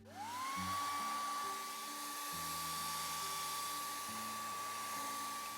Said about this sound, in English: So I'm going to hit this with a blow dryer.